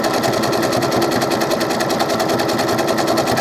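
Sewing machine stitching Velcro onto doll clothes, a steady rapid mechanical clatter running continuously and close, loud and unbroken for a few seconds with no voices.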